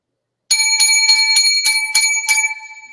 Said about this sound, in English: Lucky bells for the evil spirits.